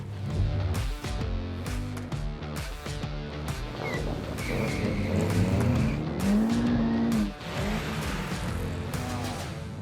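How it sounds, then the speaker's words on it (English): A drag racing car launches hard down the strip at Superboss Day 2024 at Killarney, its loud engine revving and climbing through the gears with brief tyre squeal, close and continuous with no talk. "Finally, it's time to go drag racing."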